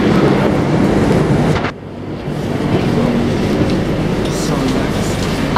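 A Moscow Metro subway train travels between stations with a loud, steady roar of wheels and car rumble, briefly dipping before the noise swells again, a person speaking faintly under it.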